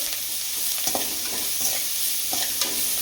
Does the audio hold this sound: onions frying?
yes